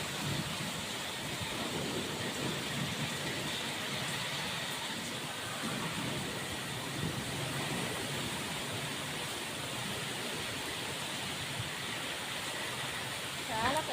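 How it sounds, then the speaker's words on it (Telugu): Heavy rain pours steadily during an evening storm in Vijayawada with gusting wind, a dense continuous roar filling the whole stretch with no clear thunderclap standing out. "పెద్ద వర్షం అండి ఎదురు గాలులు వర్షం"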